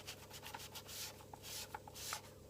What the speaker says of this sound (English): Rub it off on the areas you don't want it to be so white.